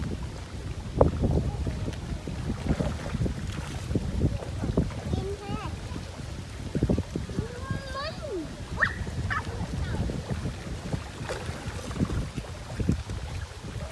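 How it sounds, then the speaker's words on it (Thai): Strong, cold wind blows steadily across the microphone, a continuous rushing roar that buffets the recording throughout, with voices faintly present underneath. "ลมพัดแรงหนาว"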